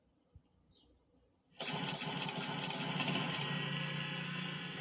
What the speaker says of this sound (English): Now, to start the mower, you grab this pull cord like so and give it a nice hard yank.